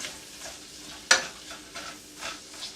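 Four onions stirred with a wooden spoon in a non-stick pan for French onion soup: a soft continuous sizzle with scraping strokes and one sharp clack of the spoon about midway.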